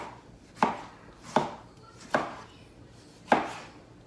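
A knife slices small homegrown garden tomatoes on a cutting board, four distinct chops spaced at irregular intervals. They sound quiet and close against a soft room background, with no talking.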